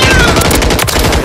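Rapid automatic gunfire in the video game Call of Duty Warzone 3, a loud close burst of shots in quick succession filling the whole short moment.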